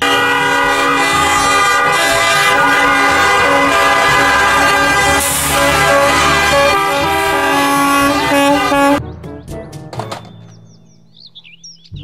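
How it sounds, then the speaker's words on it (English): Loud, sustained toy-style school bus horn blaring in a long tonal blast for about nine seconds, then cutting off to a few faint clicks and chirps. "Mobil bus sekolah."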